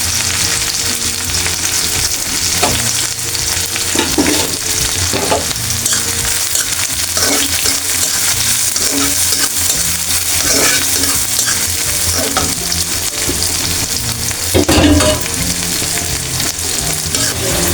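Cumin seeds, two bay leaves and chili fry in hot oil in a pan, a loud, continuous sizzle running the whole time with occasional sharper pops and spatula scrapes, close up and without speech.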